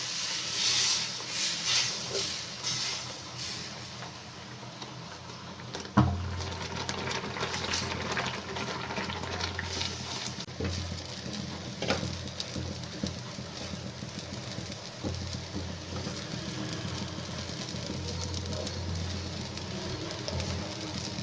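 Semolina (rava) roasting in a hot pan is stirred steadily, giving a continuous soft hiss and scraping under a faint mechanical hum, with one sharper knock partway through.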